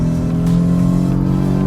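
A decade-old BMW accelerates with its turbo spooling up, a steady engine drone with a rising whine held close and loud for under two seconds, heard as if from inside the car.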